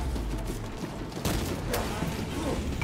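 Gunfire in Warhammer 40k Space Marine 2, a steady wash of distant shots and blasts with a couple of sharper bangs, continuous battle noise under a player's voice.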